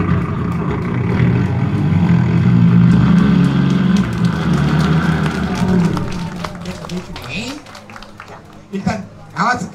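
A voice mimics a revving motorcycle engine, rumbling loudly, during a night stage performance at a festival, then fades into crowd noise and scattered clapping.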